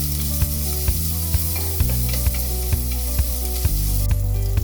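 Chopped green chili sautés in a pan for a vegetable kurma, giving a loud, constant sizzle punctuated by regular spatula knocks roughly twice a second, with a steady low hum beneath and no talking.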